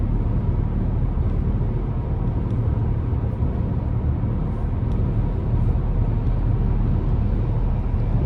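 Steady cabin road noise inside a 2025 GMC Acadia AT4 driving down the road: constant low rumble and tire hum, even and unbroken throughout, with no talking.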